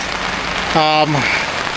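Rain patters steadily on a camping tent at a campsite, joined midway by a short, loud voiced sound.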